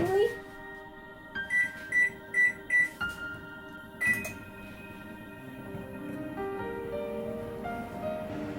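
A home microwave oven being set to its cake program gives a run of short keypad beeps in a quick series, then a longer tone, with someone talking over and after them.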